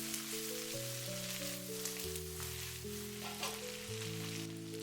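Minced ginger and garlic sizzle and crackle in a hot wok during a quick stir-fry, a steady close frying hiss under background music.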